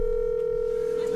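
A phone call to Facebook's helpdesk number in the Netherlands, an Utrecht line, gives a single steady telephone tone that holds clearly for about a second before cutting off.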